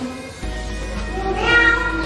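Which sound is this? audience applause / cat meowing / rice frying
cat meowing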